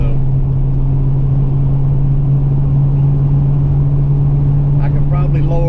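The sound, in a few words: Ford Mustang Foxbody engine revving on nitrous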